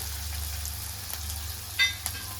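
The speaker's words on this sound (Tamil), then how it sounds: "காஞ்ச மிளகாய் போட்டு நல்லா வதங்கின பிற்பாடு" Dried red chillies frying in oil in a pan for butter chicken masala, giving a quiet steady sizzle with a low hum and a couple of faint stirring clicks near the end.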